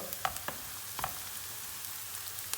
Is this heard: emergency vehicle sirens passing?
no